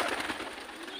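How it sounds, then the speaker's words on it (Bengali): A pet pigeon coos close by, a short soft throaty burst of cooing lasting about a second, quiet against a faint background hum. "দেখুন এই এই দেখুন দেখুন পায়রাটা ডাকছে।"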